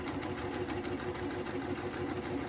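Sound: sewing machine stitching quilt block seam

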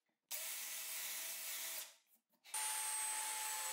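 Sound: drilling straight holes in wood using a wooden jig

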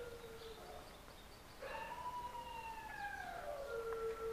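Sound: dog howling

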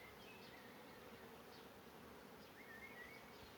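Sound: bees buzzing

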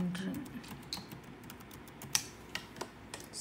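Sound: typing on computer keyboard

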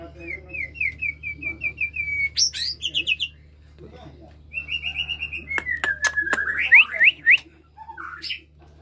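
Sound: white-rumped shama (murai batu) singing

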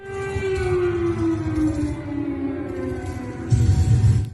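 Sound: air raid sirens and explosions

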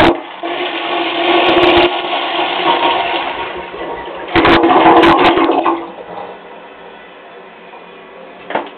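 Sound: 1927 Douglas Gloria high tank toilet flushing

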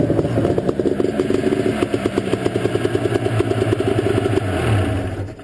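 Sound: 1985 Ski-Doo Safari 377 snowmobile engine starting

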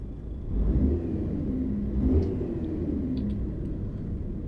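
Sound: bus engine and retarder in video game

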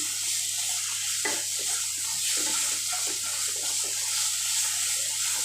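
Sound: water being poured into fish head curry

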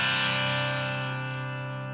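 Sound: overdriven electric guitar through PettyJohn Iron Overdrive pedal

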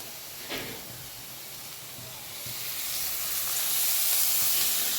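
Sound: green tomatoes roasting in a pan

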